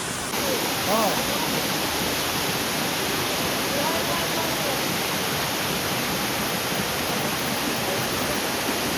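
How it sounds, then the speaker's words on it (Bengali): Bamni Falls in the Ayodhya Hills of Purulia, a waterfall pouring down over rocks, gives a loud, steady broadband roar that fills the whole stretch without pause, with faint voices barely surfacing beneath it. "উপর থেকে ঝর্ণাটা নামছে,"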